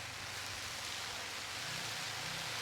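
Water sprayed onto a hammock to mimic rain makes a steady, dense hiss that stays even and close for the whole stretch, with no voices.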